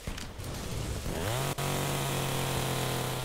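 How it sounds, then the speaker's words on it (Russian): A power saw starts up in the Primal Carnage Extinction game, its engine whirring up from a sputter into a loud, steady buzzing drone that runs on, close and unbroken. "чё это я пилу-то включил?"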